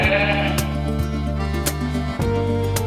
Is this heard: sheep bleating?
yes